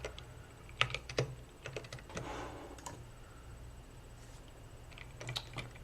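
Fast typing on a computer keyboard during a Typeracer speed test, with crisp clustered key clicks in irregular bursts and brief pauses, close up in a quiet room.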